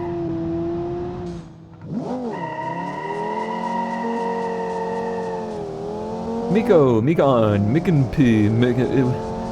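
Simulated 1982 Viper concept car in a car-building racing game, its engine droning steadily with rising and falling revs, a louder burst of revving and shifting toward the end, under a continuous speaking voice.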